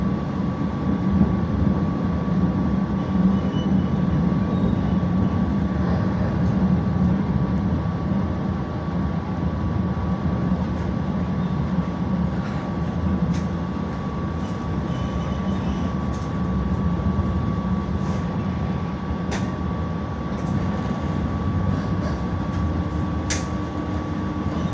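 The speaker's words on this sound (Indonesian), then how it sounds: "Beberapa saat lagi kereta api Jakarta Tingkir akan segera tiba dan berhenti di stasiun Lempuyangan" Jaka Tingkir train pulling into Lempuyangan station in Yogyakarta, heard as a loud, steady rumble with a constant electrical hum and faint metallic ticks throughout; no voices.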